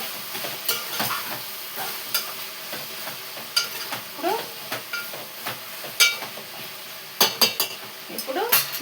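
Eggplant cooking in a pan, with a soft sizzle under repeated spatula scrapes and metal clinks, some sharp and bunched together, close by.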